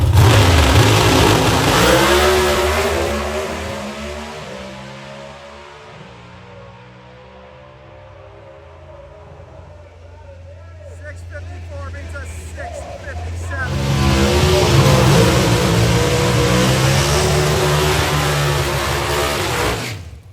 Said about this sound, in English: The sweet sound of these naturally aspirated engines.